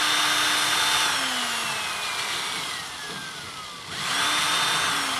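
Power drill running continuously while clearing clogged burner ports on a gas grill, a steady loud whine that dips in pitch briefly midway as the bit bites, then recovers.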